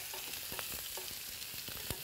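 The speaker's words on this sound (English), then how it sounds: "And if you'll just stir those up" Vegetables sizzle in a pan with canola oil, loud and close, while a utensil stirs them in quick, uneven scraping strokes throughout.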